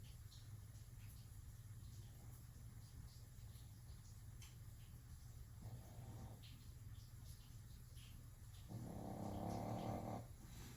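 A dog snores softly under a table indoors, faint low rumbling breaths rising in two longer bursts over a steady background hum.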